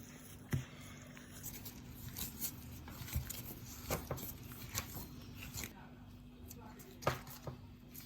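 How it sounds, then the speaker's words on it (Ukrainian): Soft, irregular thuds and squishy pats of dough being kneaded by hand on a table, quiet and close, with faint background noise. "Викладаємо тісто на стіл і вимішуємо."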